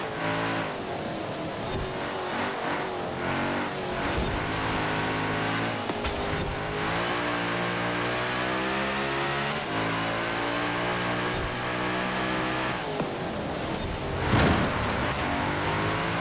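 An Audi in the Forza Horizon racing game revs hard during a street race, with continuous engine roar that climbs through the gears and brief dips at the shifts. The engine stays loud and upfront, with no talking.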